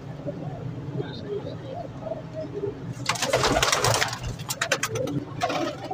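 Pigeons coo at the Shahdara pigeon market in Lahore, a steady low murmur beneath people talking, with a louder burst of bustle and flapping partway through.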